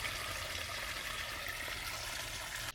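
Irrigation water gushes into a farm field channel, tumbling like a small waterfall in a steady, loud, hissing rush that carries on unbroken and ends abruptly.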